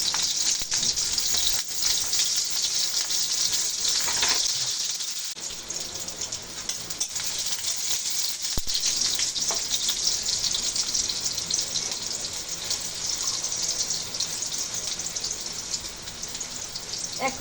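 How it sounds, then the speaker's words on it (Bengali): Green chillies and onion frying together in a pan, a loud, dense, steady hiss and crackle with occasional stirring clicks and no voices. "কাঁচা ঝাল আর পেঁয়াজ একসঙ্গে ভেজে নেব এখন"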